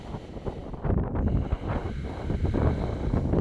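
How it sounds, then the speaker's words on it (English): Strong wind buffeting outdoors during a power yoga class, a steady broadband rush and rumble across the whole stretch with gusts swelling louder midway, no voices over it. "It's so windy."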